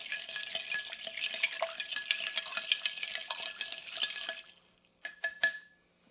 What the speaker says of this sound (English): So make sure you get a good stir.